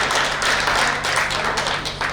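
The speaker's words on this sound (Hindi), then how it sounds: "एक बार जोरदार ताली स्वागत करिए राहुल जी का" Steady clapping from an audience welcoming a guest at a college alumni meet, a dense even patter of many hands that holds at moderate loudness throughout with no break.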